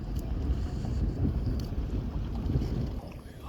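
Steady wind noise roars across the microphone while a canoe sails on open water in strong wind, a continuous low buffeting rush with no voices.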